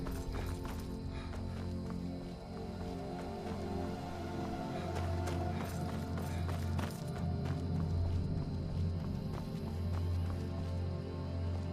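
Rapid hoofbeats of a horse galloping steadily in Skyrim, over a continuous low hum and game ambience, with faint clattering throughout.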